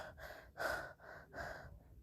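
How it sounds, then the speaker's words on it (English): Panting breaths echo through a hall in a quick uneven rhythm, four or five rasping inhales and exhales, faint and close with no talking. "Panting breaths run through the hall."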